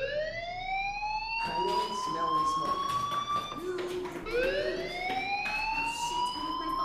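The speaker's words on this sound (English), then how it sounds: "do you hear that fire alarm?" A fire alarm blares in the Life is Strange video game, a loud sweeping electronic siren that rises repeatedly and holds steady throughout, with game voices talking over it.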